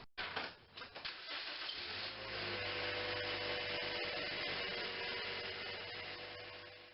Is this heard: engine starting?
yes